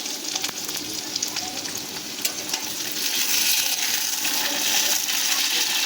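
Chopped tomatoes and green chillies frying in a pan, a loud, continuous close sizzle that swells and grows denser partway through, with faint stirring clicks and no voices.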